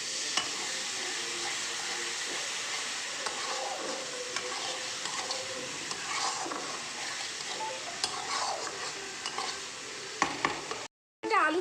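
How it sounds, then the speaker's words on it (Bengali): Potatoes being stirred and sautéed with spice paste in a pan, a low steady frying hiss broken by scraping spatula strokes and light metallic knocks, ending in a brief gap and a final clatter. "এবার আলুটাকে মশলার সাথে কষিয়ে নেব ভালো করে"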